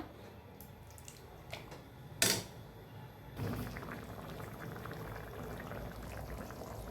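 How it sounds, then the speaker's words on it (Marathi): Vegetable curry simmers in a pot on a home stove with a faint, steady bubbling hiss, interrupted by one brief louder splash or clatter before the soft boil continues. "भाजी उकळत आहे त्या टायमाला"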